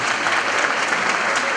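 An audience at a Turkish foundation gathering applauding, a dense, even burst of many hands clapping together, loud and sustained throughout with no gaps.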